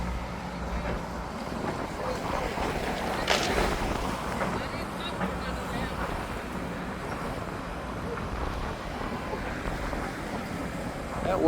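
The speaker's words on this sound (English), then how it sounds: "That wind feels like it's picking up a little bit." Gusty wind blowing outdoors among library trees, a continuous rushing roar with buffeting against the microphone and a brief stronger gust midway.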